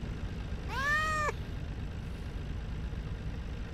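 In the farming game Farming Simulator 19, a cat inside a truck cab gives a single clear, drawn-out meow over a low idling engine rumble.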